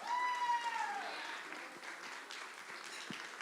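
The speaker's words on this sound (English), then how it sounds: "Put your hands together" A gala audience claps for a charity donation, a soft, distant spread of applause under a faint voice, with a brief tone sounding at the start.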